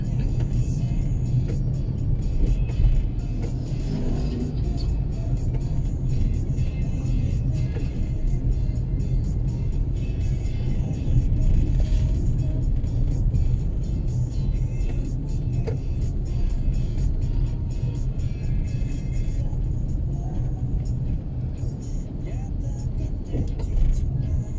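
Steady road traffic on Jalan Malengkere, a continuous rumble and whir of cars passing close by throughout, with faint voices now and then beneath it.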